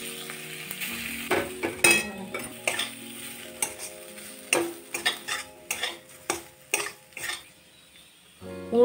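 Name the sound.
pumpkin pieces frying in hot mustard oil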